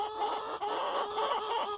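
A flock of allotment laying hens clucks loudly and steadily nearby, a dense run of overlapping calls with no crowing and no voices.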